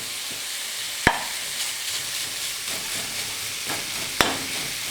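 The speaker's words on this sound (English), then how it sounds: "you want to break this meat up as much as possible" Sweet Italian sausage meat sizzles in a pan as it is broken up, a steady frying hiss punctuated by a few sharp utensil knocks against the pan.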